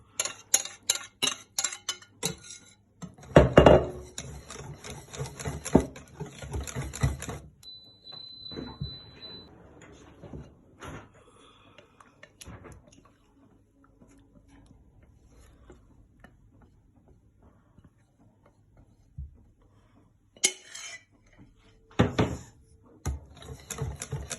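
Melted butter and chocolate being stirred into cake batter in a bowl for mini chocolate cakes: rapid clicking, scraping strokes in bursts, loud at first, then a quieter stretch before a final flurry of mixing.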